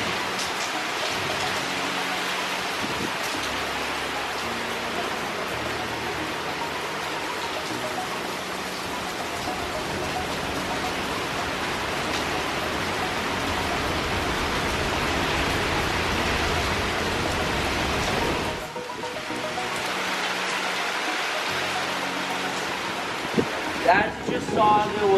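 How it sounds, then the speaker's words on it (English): Strong hurricane wind and steady rain sweep past swaying trees, heard from beneath a covered area as a loud, continuous broadband roar that eases briefly near the end, with voices faintly present. "An immense amount of wind. We have some trees swaying, currently raining."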